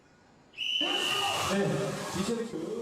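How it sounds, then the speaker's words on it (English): A short, shrill whistle blast cuts in, quickly followed by a noisy crowd and echoing indoor commotion. "After the referee blows the whistle"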